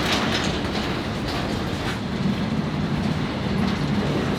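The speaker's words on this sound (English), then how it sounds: "What is it? The train." A train passes at a rail yard in India, with a continuous rumbling roll and rhythmic clickety-clack of wheels over rail joints, loud and close, with no talk.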